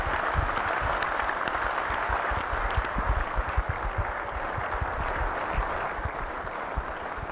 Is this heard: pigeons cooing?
no